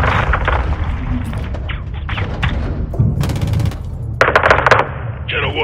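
An airstrike levels a building in Call of Duty Modern Warfare 2, with loud, dense booms, crashes and rapid gunfire bursts layered under intermittent radio chatter.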